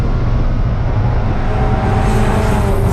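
A BMW race car, number 106, coming down the hill at Virginia International Raceway, heard as a loud, steady engine roar held close throughout with no break.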